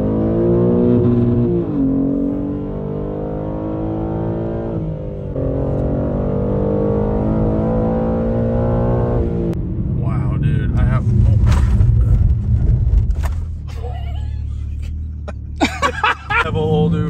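BMW M3 Competition G80 engine driven hard, a loud sustained engine roar with rising harmonic sweeps through gear changes, then rougher revving with sharp pops and crackles near the end.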